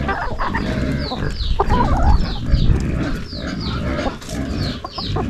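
Chickens on a snowy Tennessee homestead cluck and squawk in close, overlapping bursts over a busy barnyard background of scratching and low rumble, with no talking.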